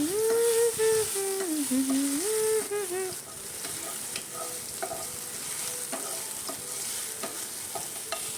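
Garlic-chili paste hitting a hot pan for desi-style noodles, a constant bright sizzle with scattered stirring clicks, while a voice hums a tune over the first few seconds.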